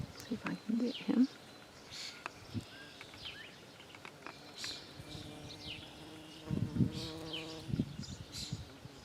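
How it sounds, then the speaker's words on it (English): A bee buzzing around fireball bee balm flowers in a garden, its hum rising and fading in brief bursts amid outdoor ambience with faint birdsong. "And we even have a bee visiting."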